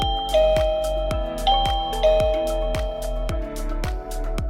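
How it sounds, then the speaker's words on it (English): Avantech wireless doorbell receiver chiming a bright multi-tone melody, with repeated ringing notes that decay and overlap, loud and close, with no talk. "Also check out this wireless doorbell by Avantech."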